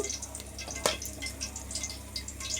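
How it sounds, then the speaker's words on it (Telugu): Food fries in a pan with a soft, crackling sizzle and scattered pops, with one sharper clatter near the start over a low steady hum. "ఇలా బాగా వేపాలి, ఇంకా మగ్గాలి ఇది."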